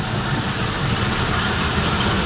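Twin engines on a Bayliner 3270 boat idle after a Rochester carburetor repair, making a loud, steady low rumble heard close up and alone.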